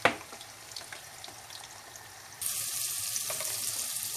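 Chicken pieces frying in a pan, with a steady close sizzle that swells louder partway through, joined by faint clinks and stirring.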